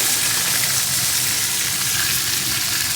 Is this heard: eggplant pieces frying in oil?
yes